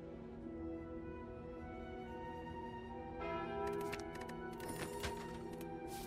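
The Calling Bell relic in the video game Slay the Spire rings with a sustained, resonant chime that swells midway, layered with bright metallic strikes and shimmering overtones, over continuous game music.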